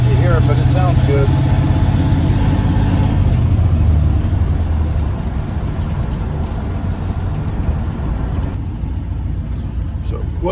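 A 1989 dump truck's engine runs steadily while driving, a loud continuous low rumble heard from inside the cab that carries on throughout.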